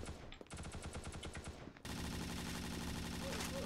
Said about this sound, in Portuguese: ela atira muito rápido, galera